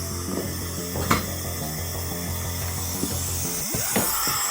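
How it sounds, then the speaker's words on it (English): Power sander working over the trunk lid of a 1964 Ford Mustang, a steady close whir with a few brief scraping bursts along the panel. "Now when you sand it down, you want to be careful on your edge."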